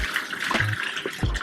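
Hot water poured from a pot, a short watery splash and trickle for about a second and a half, close by with no talking.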